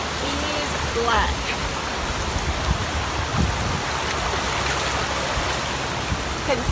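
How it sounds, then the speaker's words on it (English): Rain falls beside Landing Creek below Russell Vale Colliery, and the stream rushes close by. The hiss of water is steady and broadband, with faint bird calls early on. "we're by the Landing Creek, just below the Russell Vale Colliery. It's raining"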